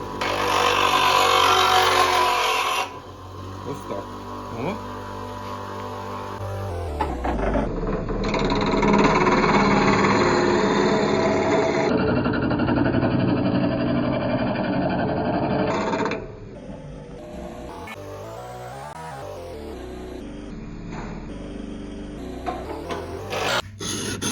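Knives for a grafting tool being sharpened on a powered sharpening machine, a steady motor whine broken by changing grinding and scraping passes, with abrupt shifts in tone and level, no talk.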